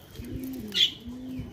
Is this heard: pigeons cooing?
yes